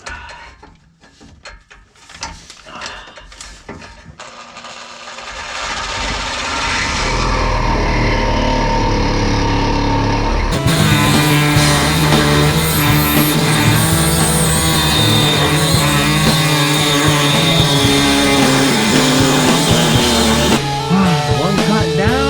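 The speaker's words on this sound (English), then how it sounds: "marked a couple spots where I'm gonna cut the exhaust." Exhaust pipe being cut under a 1971 Ford Torino GT: a few scattered shop clatters at first, then a loud, sustained grinding/cutting roar that runs steadily, briefly shifting tone midway and continuing to the end.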